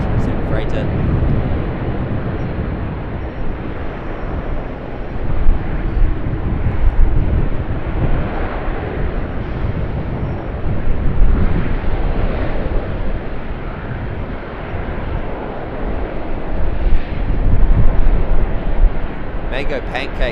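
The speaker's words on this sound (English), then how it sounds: "Coming in for a landing on runway 25, 777 freighter" A FedEx Boeing 777 freighter comes in to land on runway 25 at Sydney Airport, its broad engine roar rumbling steadily and swelling at moments, with wind buffeting the microphone.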